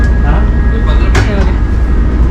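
Washington DC metro train in motion, a loud, close rumbling ride noise with rattling and a faint steady whine throughout, a brief sharper clatter partway through.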